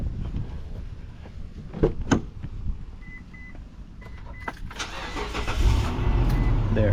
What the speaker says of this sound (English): it's gonna crank, it's gonna start the engine